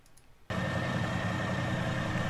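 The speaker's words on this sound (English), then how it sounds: "Noisy old tractor." An old tractor engine in Farming Simulator 2019 cuts in abruptly and settles into a loud, steady idle, a constant rumbling drone with a faint whine held for the rest of the moment.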